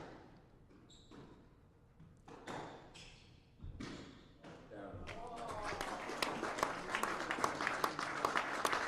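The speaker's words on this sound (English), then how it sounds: "The crowd showing their appreciation to both players on a very strong, cleanly played rally" Squash match crowd applauding after a rally, starting with sparse thuds and taps, then swelling into steady, dense clapping over the last few seconds.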